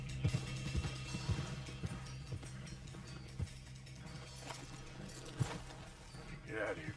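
Horse hooves clip-clopping in a Wild West video game, rhythmic thuds under a game soundtrack and talking.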